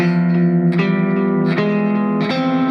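Sustained electric guitar notes over an E bass ring out with echo and slight distortion, shifting pitch about three times for a tense, dissonant sound, with no talking.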